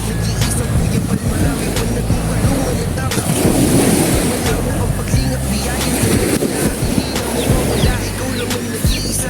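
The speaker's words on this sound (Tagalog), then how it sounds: "nasa gilid tayo ng dagat" Steady, loud roar of surf washing onto the shore, continuous and close, with a broad rumbling wash and no clear talk.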